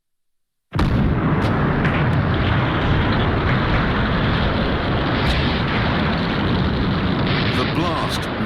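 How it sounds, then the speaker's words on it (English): A heavy explosion wrecks a dock gate during a wartime raid on a ship, bursting in suddenly out of silence and then holding as a loud, sustained roaring rumble. "The blast wrecked the gate."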